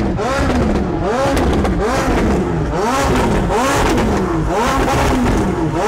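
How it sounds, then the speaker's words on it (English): A McLaren sports car engine revs repeatedly in loud, close bursts, rising and falling in a fast rhythm that never settles to idle. "this McLaren sounds absolutely crazy"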